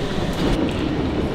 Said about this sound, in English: Best way to get around Europe is the train.